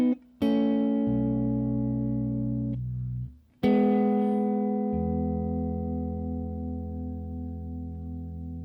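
Guitar riff played slowly with a hammer-on: a few ringing, sustained notes, each struck clearly and left to decay, with a brief gap before the final long-ringing note.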